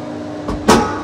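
Automatic door of a cable car cabin arriving at the station on the Hồ Mây line in Vũng Tàu, giving a soft thud and then a louder sliding, rushing sweep as it opens, over a steady hum inside the cabin.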